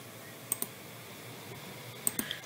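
Computer mouse clicks made while working in the Pixlr image editor: two pairs of soft, close clicks over a low background hum.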